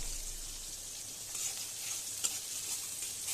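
Onions and chilies fry in a pan with a steady, quiet sizzle, marked by a few faint scraping stirs and one brief sharper tap, and no voices.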